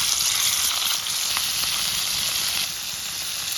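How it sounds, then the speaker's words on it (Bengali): Pomfret fish frying in hot oil in a pan, giving a steady, dense sizzle that stays loud and close throughout, with a slight dip partway through and no voices. "তৈলটা গরম হয়ে গেছে, এখন পোমা মাছটি দিয়ে দিমু।"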